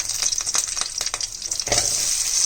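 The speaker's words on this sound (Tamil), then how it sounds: "மறுபடியும் எண்ணெய் ஊற்றுங்க. அதில் வந்து சின்ன வெங்காயம், பூண்டு, கருவேப்பிலை," Small onions, garlic and curry leaves drop into hot oil with a loud, close sizzle, with a few sharp crackles and spatters and a fresh burst of frying partway through.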